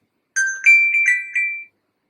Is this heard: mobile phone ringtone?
yes